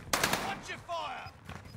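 Automatic gunfire rattles in a battle royale video game, a short burst of rapid shots followed by a second brief volley, with game voice lines and chatter layered over it.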